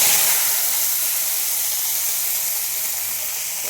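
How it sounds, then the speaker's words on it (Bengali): Cumin seeds tempering in hot oil give a loud, steady sizzling hiss close up, continuous and broadband with no voices over it. "দেখো, জিরে ফোড়ন দিয়ে দিলাম।"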